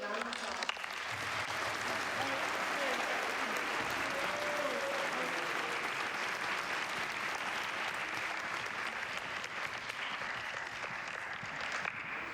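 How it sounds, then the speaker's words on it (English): Sustained applause from a ceremony audience at a military academy recognition event, a steady dense wash of clapping that holds evenly from start to finish with no talk over it. "Ladies and gentlemen, please give these new members a round of applause."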